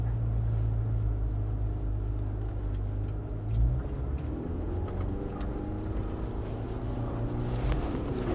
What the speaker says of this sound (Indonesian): Suara mesin tuh menarik ya. Dia seperti mesin diesel gitu, padahal bensin.